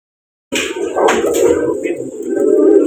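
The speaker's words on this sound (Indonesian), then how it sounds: "Ini si Simbat. Simbat adalah burung takeoveran kita dari GM." A competition songbird kept for national bird contests coos and calls continuously at close range, with a steady low cooing tone and a few brighter chirps over it, and no voices heard.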